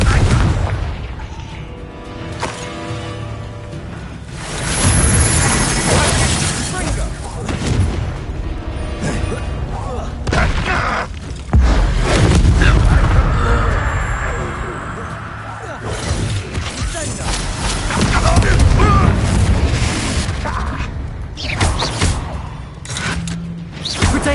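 Booming fire-spell explosions burst repeatedly in Hogwarts Legacy combat, loud and heavy, with a voice shouting spell incantations between the blasts.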